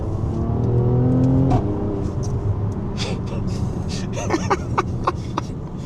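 Mercedes GLC 43 AMG accelerating hard, its engine rising through the gears with a strong, close rumble that climbs in pitch and then settles into steady road noise.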